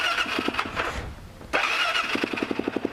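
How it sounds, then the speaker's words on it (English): A big, loud motorcycle engine runs close by, revving and roaring with a short dip in the middle before picking back up into a steady, pulsing throb, with no talking over it. "big loud bike in the background"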